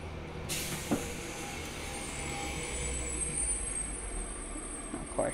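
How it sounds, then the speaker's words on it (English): A garbage truck rumbles past outside a window, a low steady engine drone with a faint high whine and a couple of brief clanks or air-brake hisses, muffled and moderately distant. "sorry if you hear that truck"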